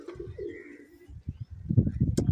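Punjabi-breed pigeons coo close by, a few low burbling calls at first, then denser, louder throaty cooing building toward the end.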